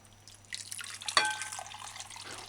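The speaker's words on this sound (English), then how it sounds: "Measure and add 2 cups water." Two cups of water poured into a clean empty bowl, a brief close splash and trickle with a bright clink of glass, then settling drips, quiet and alone.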